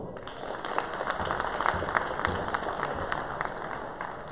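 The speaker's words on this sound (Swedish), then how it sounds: "Även det är värt en applåd." Steady applause from an audience at a Swedish boxing championship, a dense even patter of many hands clapping that carries on without a break, moderately loud in a large hall.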